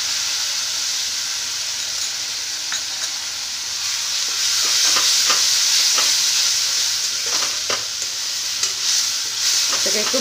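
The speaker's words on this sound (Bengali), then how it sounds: "এটাকে একটু ভালো করে আমি ভেজে নেব।" A paste of ash gourd fries in a pan with already fried spices, giving a loud, continuous sizzle and hiss, with scraping stirs breaking through now and then.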